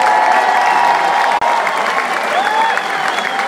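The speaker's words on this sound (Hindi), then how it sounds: "बहुत सारी तालियां आपके लिए" Concert crowd at a band's comeback show in Dubai applauds the dholak player, a dense, loud wash of clapping and scattered cheers that carries on unbroken, with a faint voice rising through it.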